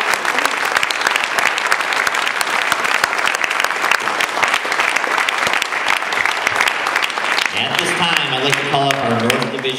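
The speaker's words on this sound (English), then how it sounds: "One more big round of applause for all our contestants" An audience gives a big round of applause for speech contest contestants, sustained dense clapping from many hands, with a voice starting to talk over it near the end.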